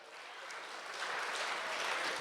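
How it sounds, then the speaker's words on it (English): Audience applause from a group after a countdown exercise, a dense steady crackle of many hands clapping that swells slightly and holds at an even level. "Give yourselves a round of applause."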